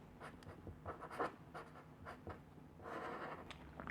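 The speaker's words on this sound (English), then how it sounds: "So I'm gonna write down" Handwriting on paper, a quiet close scratching in short strokes and pauses as a word is written down, ending with a brief louder knock.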